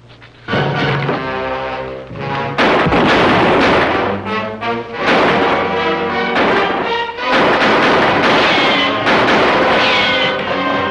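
Gunfire at a 1950s Western gunfight, with loud booming blasts that keep going and echo and overlap with dramatic orchestral score for about ten seconds.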